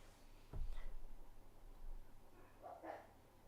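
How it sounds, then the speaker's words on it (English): A dog barks once sharply, followed by a couple of fainter barks or yips a little later, quiet and somewhat distant. "my dogs are barking."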